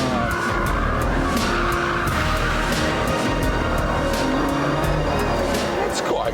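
A 1,000-horsepower Bugatti Veyron pulling out of a track hairpin in first gear, a loud continuous engine roar with tire noise under someone talking over it.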